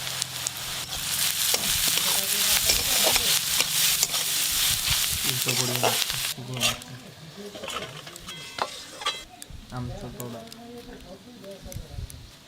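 Onion filling mixed with ground spices, salt, turmeric, chilli powder and amchur is stirred in a pan, scraping and sizzling at first, then quieter intermittent stirring strokes, with a voice talking over it.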